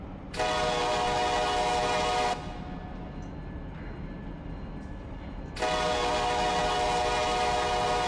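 Locomotive horn in the Run 8 train simulator game, two long loud blasts separated by a few seconds of quiet rumbling, each a sustained multi-tone chord starting and stopping abruptly.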